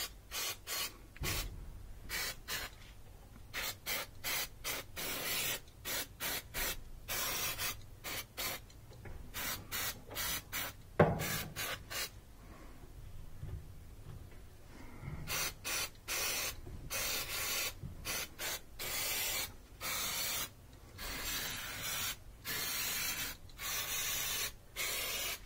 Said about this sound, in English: Alright, I've got some electrical cleaner.